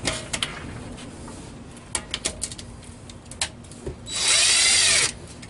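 A power tool fitted with a 13 mm socket removes loose bolts from the transmission pan of a 2002 Chevy Astro van, giving one loud, steady burst of high-pitched whirring near the end, preceded by scattered clicks and taps.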